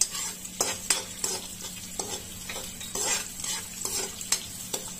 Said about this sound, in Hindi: बटर को पिघल जाने के बाद इसमें हम सबसे पहले हरी मिर्च डालेंगे